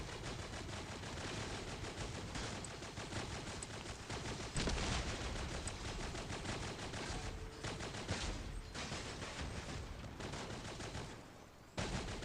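Rapid, continuous shotgun fire from a fast shotgun-armed vehicle build in the Crossout Mobile video game, dense repeated blasts running almost unbroken for about twelve seconds with only brief dips.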